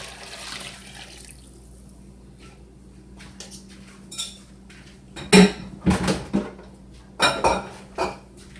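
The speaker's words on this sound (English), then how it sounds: "now I'm going to just pour my liquid" Liquid poured into the center of a cinnamon roll dough mixture in a home kitchen, with a quiet stretch followed by a run of short, close clattering and sloshing bursts and no talking.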